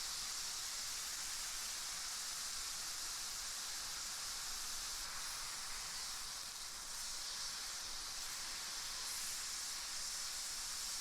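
A steak sears in a hot pan for about a minute per side, giving a steady, bright hiss and sizzle that carries on evenly throughout, fairly faint, with no talking.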